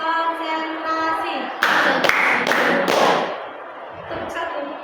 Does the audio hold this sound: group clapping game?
yes